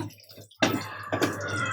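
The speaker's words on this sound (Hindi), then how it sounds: "चलिए इसमें हम पानी डाल देते हैं ग्रेवी के लिए।" Water is poured into a fish curry gravy in a kadhai, heard as two bursts of splashing liquid, close and moderately loud with no voices.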